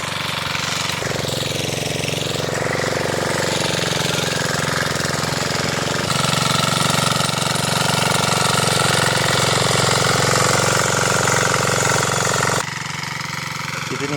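A tractor engine runs steadily while ploughing a field, a loud, continuous close drone with a knocking diesel character that shifts in pitch and load partway through, no talking.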